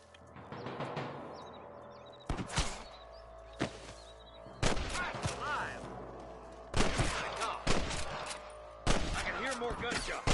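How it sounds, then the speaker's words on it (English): A Western shootout in the video game Red Dead Redemption, with loud sharp gunshots cracking out in clustered bursts and single reports, each ringing briefly before the next volley. "More gunshots."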